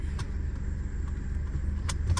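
A car labors uphill in first gear instead of third, giving a short, steady low engine rumble with a few faint clicks over it.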